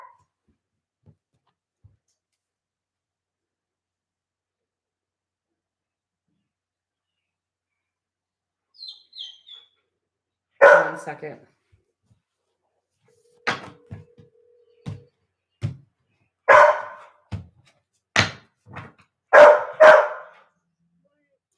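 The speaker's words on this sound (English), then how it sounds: "Will you please come and get the dog and let him outside on the chain, please?" A dog barks indoors in a series of sharp, loud barks, starting with a few faint yelps and then repeating in bursts, with a brief spoken phrase in between.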